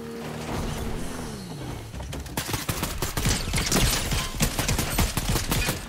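Rapid bursts of gunfire in Fortnite, dense overlapping automatic shots firing loud and close for several seconds after a short mechanical whir and creak.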